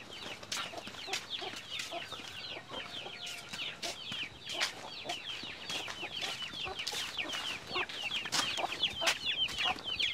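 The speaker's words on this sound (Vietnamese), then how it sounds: "Đây có một đàn gà này" A flock of crossbred fighting-type chickens clucks steadily in a rural yard, overlapping calls rising and falling close by with no talking.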